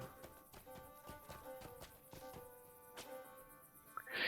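Horse hooves clip-clop steadily in Lord of the Rings Online as a mounted character rides along, a moderate rhythmic beat of repeated hoof strikes over a faint game background.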